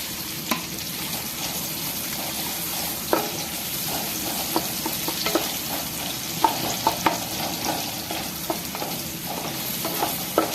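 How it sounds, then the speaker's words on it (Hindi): Whole, unchopped onions fry in hot oil with a constant crackling sizzle, broken by repeated sharp clacks of a spatula against the pan, close and without speech. "ऑयल गर्म हो चुका है, अब हम इसमें प्याज डालेंगे"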